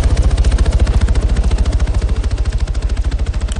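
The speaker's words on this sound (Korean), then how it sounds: "저 귀한 헬기 타고 싶다." Arma 3 helicopter engine with a steady, fast rhythmic rotor pulse and a dense mechanical whine, close and loud throughout without pause.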